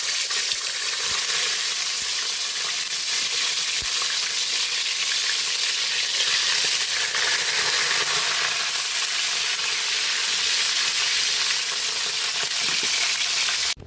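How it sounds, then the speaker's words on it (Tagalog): Daing na bangus, dried milkfish, fries in hot oil with a dense, continuous crackling sizzle that stays loud and close from start to finish, with no voices. "Prito na po tayo ng ating daing na bangus."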